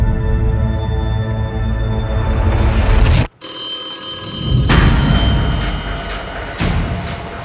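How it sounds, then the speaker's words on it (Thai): A telephone rings loudly and steadily with bright, sustained electronic tones, cut off by a brief silence before the ringing resumes, with no talk over it. "นั่นใช่โทรศัพท์ที่พี่เช่ให้มึงใช่ไหมมึงไปรับก่อนเร็ว"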